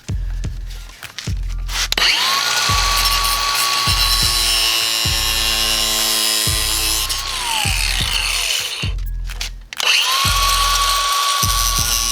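A power tool cuts a part off for a custom console in a Honda Element, a loud, close, high whining blade with grinding, running in long stretches broken by two short pauses.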